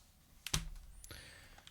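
A computer keyboard is shifted on a desk during a CS2 surf session, giving a short thud and scrape followed by a faint rattle, quiet and close.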